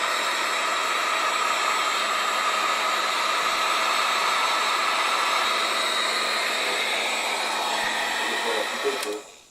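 A heat gun blows with a continuous, even whooshing roar while shrinking heat-shrink wire connectors on a Fox Body Mustang brake light switch kit, then clicks off and quickly dies away just before the end.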